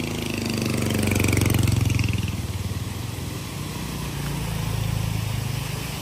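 A motorbike engine rumbles at low revs while the rider wades the bike across a shallow mountain stream, steady and close, with rushing water underneath.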